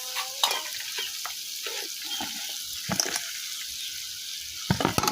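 Small puti fish tipped into spices frying in hot oil set off a loud hiss that settles into steady sizzling, with a few sharp clatters and stirring scrapes of a utensil in the pan.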